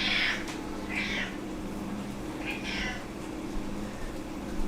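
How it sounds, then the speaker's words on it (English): A disturbed house cat meows three times indoors, short insistent calls spaced about a second apart over a low steady background hum. "I'm afraid I disrupted my cat."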